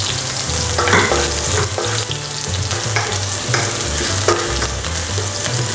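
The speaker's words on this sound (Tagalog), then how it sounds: "Ang una natin gagawin is yung pulang sibuyas," Red onion sizzles and crackles in hot oil in a wok, with steady loud frying and a few scraping stirs of the spatula breaking through. No one speaks.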